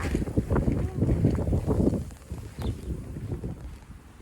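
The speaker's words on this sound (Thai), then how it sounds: "ได้ยินเสียงลมไหมคะ ลมแรงมากเลย" Strong wind in a winter snowstorm in Germany at minus six degrees, roaring and buffeting the microphone in loud rumbling gusts that ease slightly toward the end, with no speech over it.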